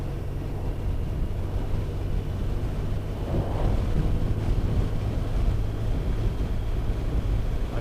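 Wind buffets the microphone on an open road, a steady low rumble with road and engine drone from a moving vehicle running continuously at a fairly constant level.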